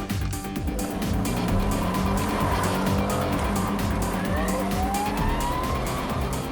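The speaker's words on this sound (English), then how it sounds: "a P-plate driver coming from the other direction spots the police lights, panics, and swings his car around" A P-plate driver's car swings around sharply, tyres squealing in long rising screeches over a loud revving engine, close and continuous throughout.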